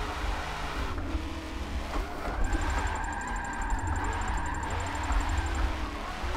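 Drift car engine in Forza 7, a sustained loud revving drone with tire noise, holding steady then surging slightly, with no talk.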